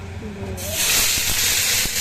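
Cardamom, cinnamon, dried red chillies and bay leaves sizzling in hot oil for tempering a dahi katla curry, a sudden loud steady hiss that bursts in and holds with a few crackles.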